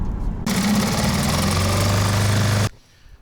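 A new 6 horsepower outboard motor on a small inflatable boat starts up and runs steadily at close range for about two seconds, a loud even drone, then cuts off abruptly.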